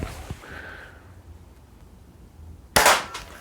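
A Daisy Model 99 air gun fires once, a sudden sharp pop with a short rattling tail after a near-silent pause, preceded by a faint mechanical click and a brief whine.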